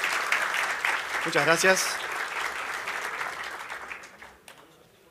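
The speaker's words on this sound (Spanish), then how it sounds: "Un aplauso" An audience applauds at the close of a Spanish-language tech talk on Kubernetes, steady clapping that fades out over several seconds while a voice briefly speaks over it.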